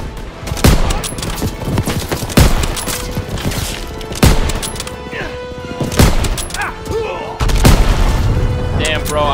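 Gunfire in a World War II video game, set on D-Day: loud, sharp repeated shots and bursts several times over, with booms and clatter between them and voices talking throughout.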